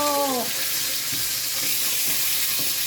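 Food fries in a pan and is turned with a fork, giving a steady close sizzle with soft stirring taps after a brief voice at the start.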